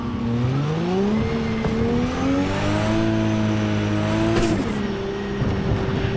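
Car in the game Cyberpunk 2077 driving past up close, its engine climbing and dropping in pitch through gear changes with a slight tire noise, loud and continuous for several seconds without talk.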